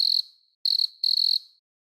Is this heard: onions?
no